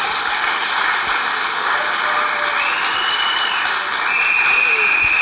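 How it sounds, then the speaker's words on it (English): Sustained crowd applause at the SWAGG Rally, steady and dense throughout with no clear breaks, loud and close with a faint continuous hum beneath. "Please, another round of applause for him."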